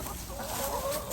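Chickens cluck softly and continuously in an outdoor chicken run, fairly close, over a steady background of low ambient noise.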